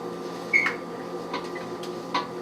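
A steady low electrical hum of a running microwave oven, with a few faint clicks and light knocks scattered over it.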